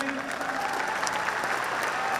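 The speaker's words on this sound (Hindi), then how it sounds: "एक बार उनके लिए तालियां बनती हैं प्लीज" Steady applause from an audience, dense and continuous clapping filling the space, with a faint voice or two underneath.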